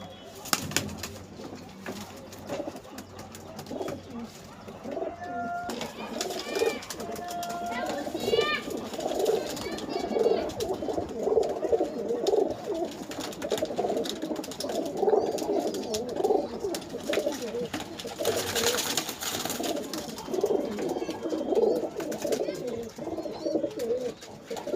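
Domestic pigeons coo repeatedly at close range, soft rhythmic calls layered over one another with occasional wing flutters, while someone talks over them.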